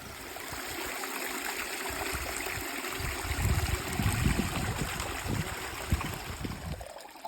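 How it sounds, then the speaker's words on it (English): A hillside stream on open moorland near the River Alport flows and gurgles continuously close by, growing fuller and louder in the middle with no voices over it. "All of this water flows down into the swamp and ultimately ends up in the river Alport."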